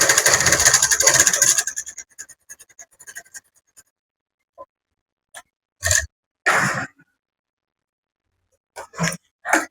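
A sewing machine stitching a pocket onto a semi Patiala pant whirs in a rapid buzzing run for about two seconds, then slows into scattered clicks and a few short bursts of handling noise separated by silence.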